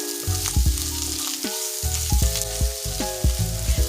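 Onions, olives and mushrooms sauté in a pan with a steady close sizzle, broken by repeated stirring scrapes and knocks against the pan; no one speaks.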